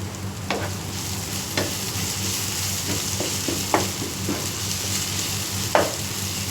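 Curry leaves crackle and sizzle in hot oil for prawn masala, a steady close frying hiss broken by sharp pops and spatters, with faint stirring and no talk.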